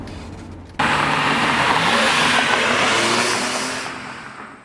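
A BMW M3 Competition with an SMG gearbox revs hard right after a sudden start, holding a loud, steady engine roar before slowly easing off, with no talk.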